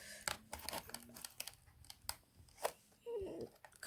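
Plastic packaging on a Rubik's Orbit puzzle is cut open with scissors, producing short snips, crinkles and taps close by, followed by a brief scraping tear near the end.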